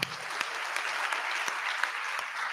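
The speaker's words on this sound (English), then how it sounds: "Another applause for Prof." A seated audience at an induction ceremony for newly qualified medical and dental practitioners claps for a professor, a steady mid-level round of applause with a few sharper individual claps standing out.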